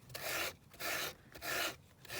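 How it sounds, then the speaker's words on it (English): Sandpaper rubs back and forth across the inside edge of a paper-covered canvas frame in four even, raspy strokes with short pauses between, close and quiet. "You can then go down on your inside edge and just neaten that up as well by sanding it down."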